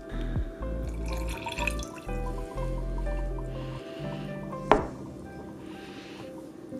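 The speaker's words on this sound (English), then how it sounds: "I'm gonna go ahead and pour the pee into the baking soda" Urine is poured into a container of baking soda, giving a soft wet trickle and splash over a low steady hum, with one sharp knock near the end.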